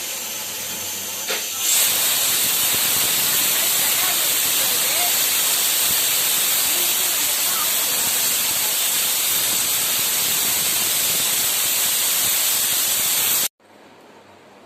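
A pressure cooker's loud, steady hiss of escaping steam runs almost continuously for about twelve seconds, then cuts off abruptly, leaving near silence.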